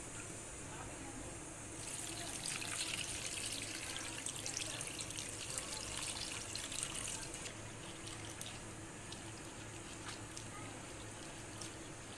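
Safflower (kardai) leafy greens being washed in water, running water splashing steadily throughout at a moderate, even level and growing a little louder for a stretch in the middle.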